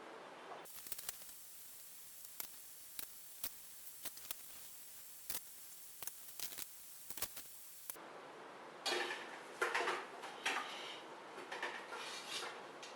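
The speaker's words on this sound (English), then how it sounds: "Let's start by washing the dishes from breakfast" Breakfast dishes being washed by hand: sharp clinks and taps of pots and cutlery recur through a quiet stretch, then running water rushes in with splashing rinses near the end.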